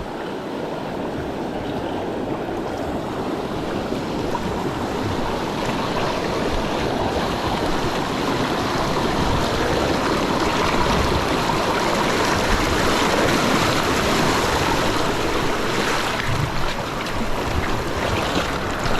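River rapid flowing, a constant loud churning rush of water close by that holds steady throughout without pause, alone with no talking.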